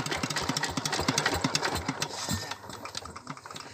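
A Kubota 11 HP diesel engine drives a 6-inch Ebara water pump, chugging with a fast, even knocking beat close by before the rhythm loosens and fades slightly.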